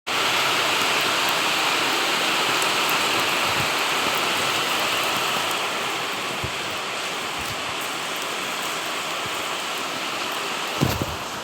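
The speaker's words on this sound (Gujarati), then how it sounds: "મિત્રો મસ્ત મજાનો વરસાદ શરૂ થઈ ગયો છે" Rain falling in a village makes a steady, broad hiss that stays even throughout, with a few faint thumps and knocks underneath.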